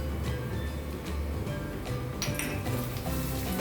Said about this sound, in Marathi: आता यामध्ये अद्रक लसूणची पेस्ट घालायची।